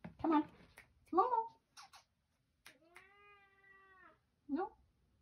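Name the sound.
cat meowing loudly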